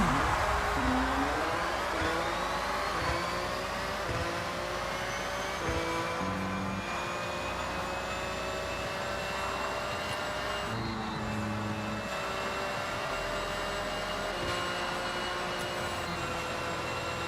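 A Porsche race car in Forza Horizon laps Legend Island Circuit, its engine a loud, continuous drone whose pitch climbs and dips with shifts and throttle changes, running steadily throughout with no talk.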